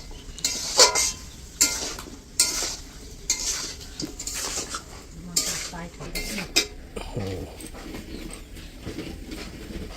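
Chicken is stirred and mixed in a cooking pan, with repeated metallic scraping strokes of a utensil against the pan in an irregular rhythm over a faint sizzle, close and clear.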